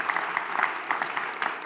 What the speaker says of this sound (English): let's just give him another round of applause for hosting us tonight